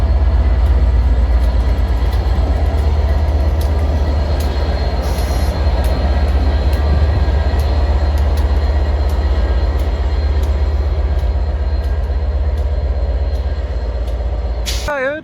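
A passenger train runs past at Stockport station with class 67 locomotive 67025 at the rear. The loud, steady rumble of wheels on rail lasts throughout, with occasional faint squeals and a brief horn-like tone at the end.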